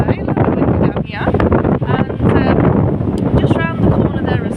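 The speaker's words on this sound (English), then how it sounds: "this is a lovely little bay, a little bit windy down here" Gusty wind buffets the microphone at a small coastal bay near St Davids in Pembrokeshire, a loud, continuous rumble that runs the whole time with brief dips, while a person talks over it.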